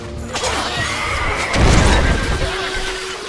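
A horse whinnies amid a busy, noisy Stronghold Crusader HD game soundscape, with a low rumbling thud partway through.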